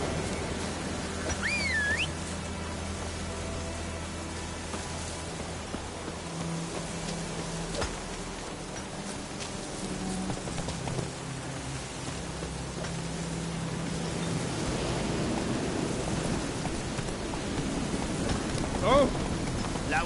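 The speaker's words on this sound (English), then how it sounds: "Let it rain. Must have flooded my fields." Rain falling in The Witcher video game, a steady broad hiss beneath a low droning hum, growing slightly heavier near the end, with faint whistle-like tones at times.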